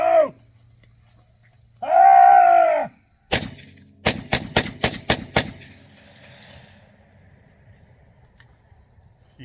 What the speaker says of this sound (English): Safety disengaged. Rapid fire.